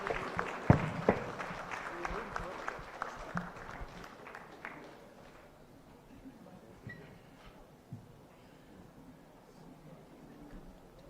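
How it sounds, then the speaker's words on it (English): Applause from a conference audience of physicians in Kenya, loud at first with sharp claps and voices mixed in, then tapering off over several seconds into quieter room murmur. "big round of applause once again"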